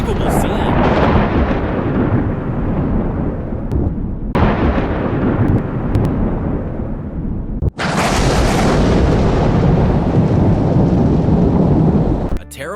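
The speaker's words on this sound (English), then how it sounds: "this lightning struck the main clock tower, creating a dramatic and unbelievable scene" Thunder follows lightning striking a main clock tower: loud, sustained rumbling roars in several heavy bursts separated by brief breaks, with a sharp crack-like onset before the final long peal.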